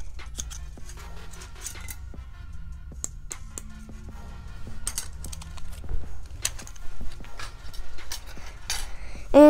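Ozark Trail camping fork, spoon and knife being handled, giving close, scattered metallic clinks and taps at an irregular pace, quiet at first and busier toward the end.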